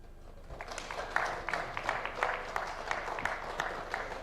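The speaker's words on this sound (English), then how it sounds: "Another round of applause for Honorable Kimani." Members of the National Assembly at a legislative retreat clap for Honorable Kimani Kuria, a fairly faint but steady round of applause with sharper claps rising and falling, and no talk over it.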